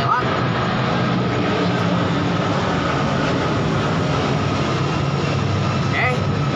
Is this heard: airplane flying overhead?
yes